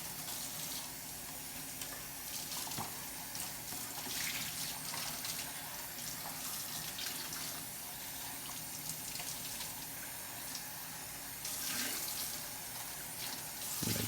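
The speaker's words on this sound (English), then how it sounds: "And we can rinse that off because there might be some residues, and then dry it." Tap water runs steadily as a container for an ice candle is rinsed, giving a continuous close splashing rush with small shifts in the flow and no talking.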